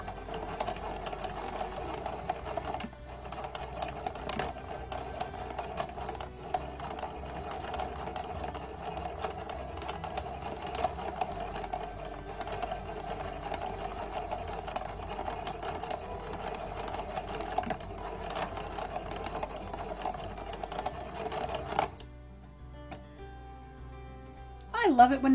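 A yarn winder spins yarn with a continuous whirring, rattly hum, rattling a desk for most of the clip before stopping, followed by a brief voice at the end.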